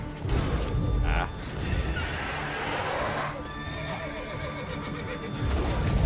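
A giant horse wraith neighs and whinnies loudly in The Witcher 3 video game, over a busy soundscape with hoof clops and clattering, a voice briefly audible underneath.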